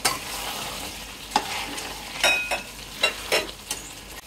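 Chicken biryani with polao rice and sugar being stirred in a frying pot: a low, steady sizzle runs throughout, broken by several sharp scraping strokes of a spoon against the pot, close by.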